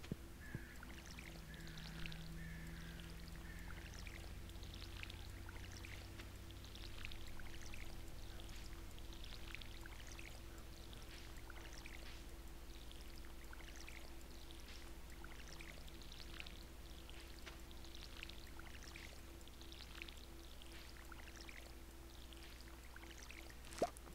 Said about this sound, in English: Okay, the watering is done.